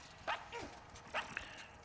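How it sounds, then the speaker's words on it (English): A dog barks a few sharp times nearby, with short separated barks over a quiet indoor background. "That's my dog"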